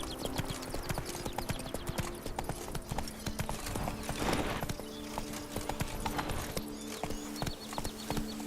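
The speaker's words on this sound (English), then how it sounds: "Whoa there, Roach" Horse hooves clip-clopping in The Witcher 3: Blood and Wine, a steady trotting rhythm heard close, with a brief rushing swell in the middle and a faint whinny-like tone.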